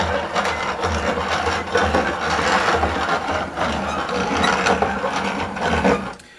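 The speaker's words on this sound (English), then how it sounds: "Wet grinding." Soaked corn is wet-ground in a hand grain mill, producing a steady gritty crunching and grinding with a rhythmic mechanical rasp, close and continuous before stopping abruptly.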